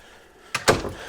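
A door is pulled shut, giving a quick pair of close, solid knocks as it swings and latches, then a short rattle dies away in a quiet room.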